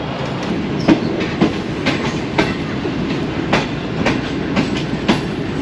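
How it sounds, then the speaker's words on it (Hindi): Inside the moving Bahauddin Zakaria Express passenger train, in business class, a steady rumble carries a rhythmic clickety-clack of wheels over rail joints, loud and close and repeating about every half second. "अब चलते हैं ट्रेन में दोबारा, ट्रेन चल पड़ी है"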